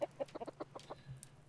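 A captured chicken in the survival game Raft gives a quick run of small clucks, fairly faint and close, without any talk.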